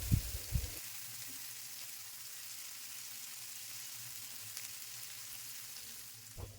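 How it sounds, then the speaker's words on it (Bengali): Chopped garlic and onion frying in oil in a pan, a soft steady sizzle throughout with a couple of clinks of stirring at the start and end. "রসুন কুচি আর পেঁয়াজ কুচি খুব ভালো করে তেলের সাথে নাড়াচাড়া করে ভেজে নেব"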